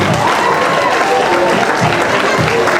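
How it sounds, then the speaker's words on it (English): An audience at a workshop rises in standing applause for a Vice Chancellor, loud continuous clapping from many people with crowd murmur and some voices mixed in. "Please reciprocate the gesture. A standing applause."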